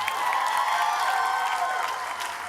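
An audience at a speaking event claps, a dense steady wash of applause from a crowd that holds for a couple of seconds and tapers slightly at the end.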